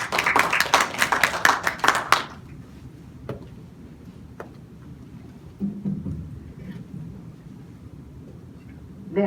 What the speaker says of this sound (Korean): 박수로 환영해 주시기 감사드립니다